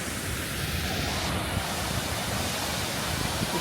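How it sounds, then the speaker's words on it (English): A waterfall at Twin Falls, Idaho, throwing off mist as it drops into a green, mossy pool, gives a steady, dense roar that holds at an even level throughout. "you've got this wonderful mist coming off the falls."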